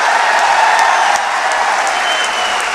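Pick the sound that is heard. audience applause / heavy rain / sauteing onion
audience applause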